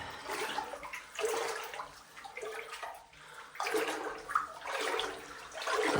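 Someone wades through groin-deep water offgrid in Portugal, each stride bringing a surge of splashing and sloshing, close and moderately loud, in several uneven bursts.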